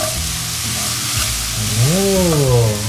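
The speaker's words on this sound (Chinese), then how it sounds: "就是把洋葱、松子、栗子、蘑菇、蔓越莓干依序下去炒香" Onion, pine nuts, chestnuts, mushrooms and dried cranberries stir-fry in a pan with a steady close sizzle, while a brief rising and falling vocal tone sounds over it partway through.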